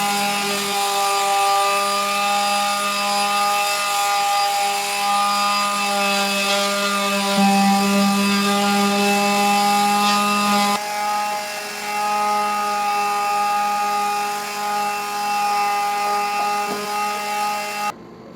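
A power sander grinds glossy polyurethane off wooden kitchen cabinets, a continuous steady whine with shifting tone that runs the whole time, close and fairly loud, with no talking.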